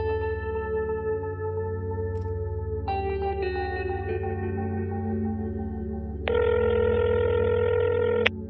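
A telephone rings with steady electronic tones that shift pitch partway through, then turns into a louder, brighter ring near the end, all over a low continuous hum.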